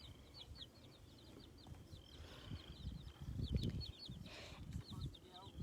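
A protective hen with her chicks on a farm, soft repeated clucks mixed with rapid high chick peeps, fairly close, over a low rustling background with some faint voice-like murmur.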